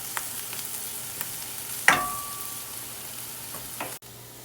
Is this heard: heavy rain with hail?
no